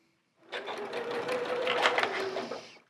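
A sewing machine stitches quilt pieces for a sunflower quilt in one continuous burst of fast, even mechanical whirring and rattling that starts abruptly and runs for about two seconds close by, with no talk over it.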